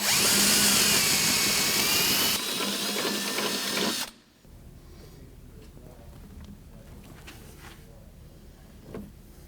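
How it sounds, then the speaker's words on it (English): A power drill with a step drill bit whines loudly at high speed for about four seconds, then cuts off, leaving quiet room noise and a faint clunk. "Now I'm using a step drill bit."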